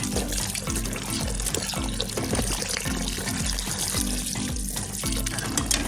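Glutinous rice is washed by hand in cold water, with continuous sloshing, swirling and dripping sounds at close range.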